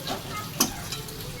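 Banana kofta curry simmers and sizzles in a pan as the gravy reduces, with a soft bubbling hiss and a single sharp clink of a utensil midway.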